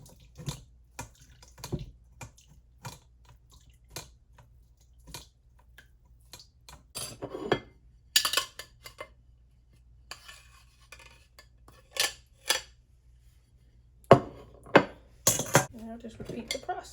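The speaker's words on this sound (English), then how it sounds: "Grab a spoon and push this down." A spoon scrapes and clinks against a container while pushing down coconut pulp to make coconut milk, giving scattered close metallic taps and scrapes over a quiet room, with a few louder bursts of clatter near the end.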